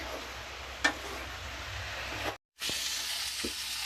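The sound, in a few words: chicken keema frying and being stirred in a pan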